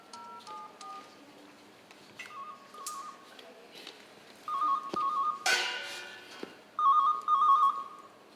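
A telephone ringtone sounds in repeated electronic bursts, quiet at first, then louder and closer, with some clattering noise between the rings.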